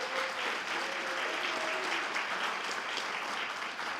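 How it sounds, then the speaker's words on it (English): An audience at an alumni event claps continuously for a welcomed guest, a dense, even wash of hands that stays loud for the whole stretch. "everyone give Dave a round of applause."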